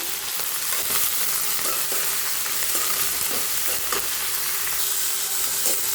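Chopped ridge gourd sautés in a pan, a continuous close sizzle broken by regular scraping stirs from a spoon, with no voices.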